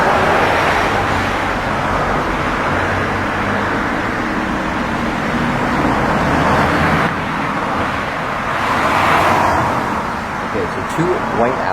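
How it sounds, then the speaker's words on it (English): Two white Audi cars drive by on a city street amid steady traffic noise, with a broad whoosh swelling and fading at close range and a voice talking over it. "Two white Audis just drove by."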